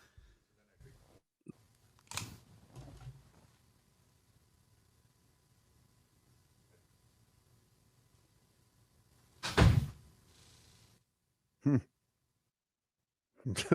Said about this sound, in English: I like the loud door closed.